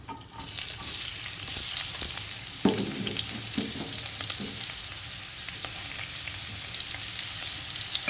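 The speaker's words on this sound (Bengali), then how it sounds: "এখন আমি যে তেলটা গরম হয়ে যাচ্ছে এখন এখানে আমি পেঁয়াজ দিয়ে দেবো" Onions dropped into hot oil in a pan while cooking pulao and duck curry, a busy sizzle and crackle with a few stirring scrapes partway through, steady and close with no talk.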